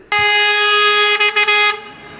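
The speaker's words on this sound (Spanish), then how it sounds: "Ahí tenemos el camión del butano, que toca la bocina para que..." A butane delivery truck sounds its horn in a small village in Valderredible to call neighbours out, one loud sustained blast of under two seconds that stutters briefly near its end, heard alone and close by.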